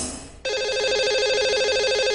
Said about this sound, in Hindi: चलिए लगाते हैं इन्हें कॉल और करते हैं बात।